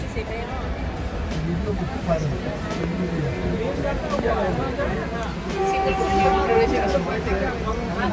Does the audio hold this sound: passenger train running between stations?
yes